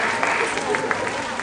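Brief burst of audience applause for contestants on stage at a school quiz competition, a steady wash of hand claps at moderate volume with a few sharper individual claps poking through.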